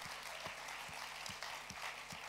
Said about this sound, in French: est-ce que vous pouvez vous applaudir vous-même déjà?